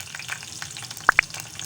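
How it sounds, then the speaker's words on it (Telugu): Green chillies fry in hot oil in a pot, a steady soft crackling sizzle punctuated by two sharp pops close together, close and without talk. "ఆయిల్ వేడెక్కినాక ఇందులో పచ్చిమిరపకాయలు"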